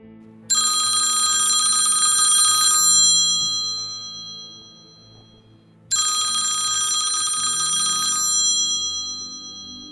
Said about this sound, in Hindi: जोर से फ़ोन की घंटी बजी